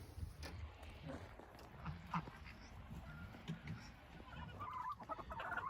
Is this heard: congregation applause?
no